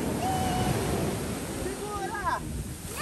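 Sea waves at the beach, a steady broad wash of surf and wind noise filling the whole stretch, with voices calling out faintly over it.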